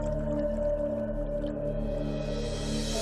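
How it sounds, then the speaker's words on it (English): Pilot whales call underwater in open blue ocean, a steady layered chorus of tonal whistles and hums that carries on without a break, with no voices above it. "perhaps lured away by the call of the pilot whales"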